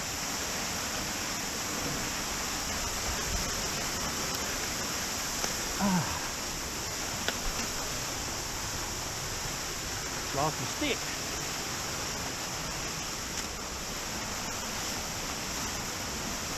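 Creek water flows steadily as a constant rushing hiss along a hiking trail in Bearcat Hollow near Prohibition Falls, with brief footsteps and a short spoken remark on top.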